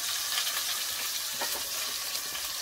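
Beef for a twice-cooked pot roast sears in a hot pan, giving a steady, close, dense sizzle with faint crackles and no talking.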